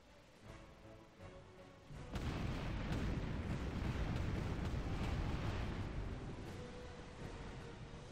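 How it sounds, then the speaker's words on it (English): Heavy cannon fire in the pirate action RPG Tempest erupts after a quieter rumble, turning into a dense, continuous barrage of booms and crashing impacts that stays loud to the end. "You just thought the cannon fire would have given it away."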